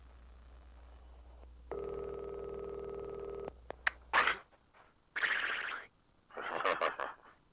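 A telephone being dialed for a broadcast call: a steady low hum, then a sustained dial-type tone lasting about two seconds, followed by clicks and bursts of noisy rustling.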